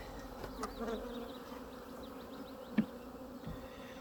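Soft, steady buzzing of many honeybees around hives, a faint drone with occasional individual bees passing near, plus one brief knock.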